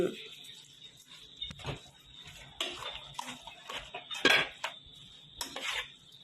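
A spoon stirs bamboo shoot soup with roasted rice powder in a pot, making intermittent scraping and clinking against the metal, with a few sharper knocks, under soft background sounds.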